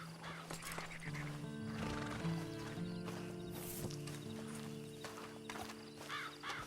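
A horse in the Red Dead Online video game whinnies with a drawn-out, wavering neigh over faint hoof and ambient sounds, mid-distance and moderately loud.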